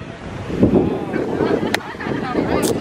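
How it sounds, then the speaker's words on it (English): Wind gusting outdoors at a college crate challenge, a steady low rumble of wind buffeting the microphone throughout, with people talking nearby. "I'm going to wait for the wind to die down."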